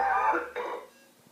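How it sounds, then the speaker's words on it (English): A single rough cough, or a harsh throat-clearing burst, close up, fading into near silence. "he is capable of coughing"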